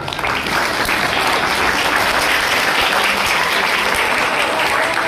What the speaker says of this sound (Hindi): जैसे मेरा हाथ ऊपर जाएगा तुम्हारी ताली बढ़ेगी, हाथ नीचे आएगा तुम्हारी ताली कम हो जाएगी